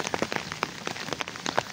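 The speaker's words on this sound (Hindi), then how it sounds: "कश्मीर का मौसम अब चेक करें, तेज़ बारिश जारी है" Heavy morning rain pours down in Kashmir, pattering steadily and densely on surfaces close by, with irregular louder drops spattering throughout and no voices.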